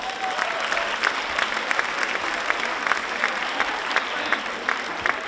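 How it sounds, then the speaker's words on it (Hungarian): An audience at a carnival-season evening event (farsang) claps in a sustained round of applause, dense and even, with scattered louder claps standing out from the crowd. "Nagy tapsot kérünk nekik!"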